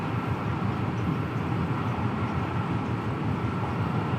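Steady rumbling drone of a train running along the Trent Valley line between Nuneaton and Stafford in Train Simulator Classic, heard from the driver's cab, continuous and even with no voices.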